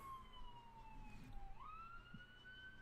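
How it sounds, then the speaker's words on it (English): A faint ambulance siren wails in the distance near a hospital, its pitch sliding down then rising again as it passes along the street, over a low rumbling background. "Sorry for the ambulance going by, folks."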